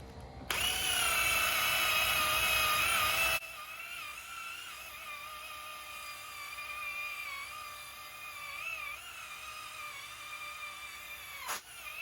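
A power buffer polishes haze off a car headlight, starting with a loud, high-pitched whirring burst for about three seconds, then settling into a quieter, steady mechanical whine that wavers in pitch as the pad works the lens.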